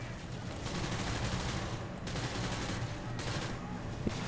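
Sustained gunfire from the video game Call of Duty Modern Warfare 2, a dense, steady clatter of rapid shots with no clear gaps, heard up close and filling the whole stretch.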